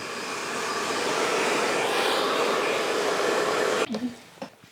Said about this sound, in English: All we did was blow dry it into position